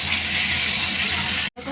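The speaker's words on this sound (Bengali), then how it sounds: "আমি এবারে আলুটা দিয়ে দিচ্ছি তেলের মধ্যে, কিছুক্ষণ একটু ভেজে নেবো।" Potatoes frying in hot white oil in a wok make a loud, dense, gushing sizzle that holds steady, then drops out for a brief moment just before the end.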